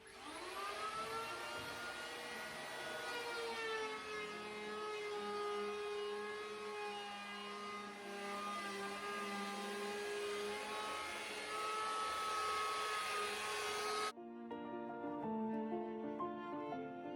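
Wood planer spinning up to speed and running steadily on a board, a loud high whine with strong harmonic overtones, close and continuous before cutting off abruptly near the end.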